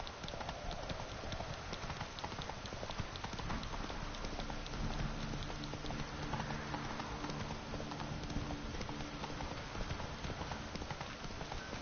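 Roach the horse galloping in The Witcher 3, with rapid, rhythmic clip-clop hoofbeats sustained and close, and a brief low musical tone in the background partway through.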